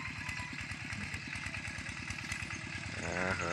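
A tractor engine chugs away in a fast, steady low rumble before dawn, loud and close, with a higher whine rising near the end.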